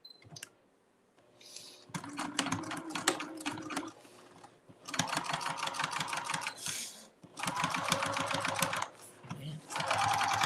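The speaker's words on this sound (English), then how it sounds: "You want me to sew slower?" A sewing machine set at a long stitch length runs in several fast bursts of steady stitching, with short pauses between runs; a voice speaks briefly near the start.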